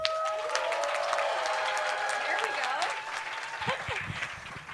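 A theater audience awaiting an Alice in Wonderland stage show keeps up steady applause, many hands clapping at an even level while a voice speaks over it.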